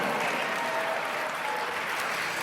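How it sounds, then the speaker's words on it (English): Sustained audience applause at a motivational business event fills the space as a steady, dense wash of clapping throughout, with no pauses or distinct voices. "Give him a tremendous round of applause."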